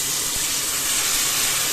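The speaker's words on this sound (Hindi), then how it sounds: "इसलिए ज़रूरी है कि इस समय पे हम हल्के हाथों से पानी को ड्रेन कर लें।" Water is drained gently from soaked sabudana (tapioca pearls) for a festive fasting dish, giving a close, steady rushing hiss of pouring liquid that runs unbroken throughout.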